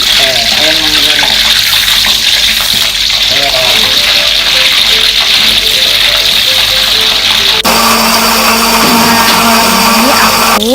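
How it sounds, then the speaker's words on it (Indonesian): A blender whirs steadily as it purees chilies in a home kitchen, a loud continuous grinding roar that shifts to a higher, tighter pitch near the end. "Aku lagi ngeblender cabai terus ditumis."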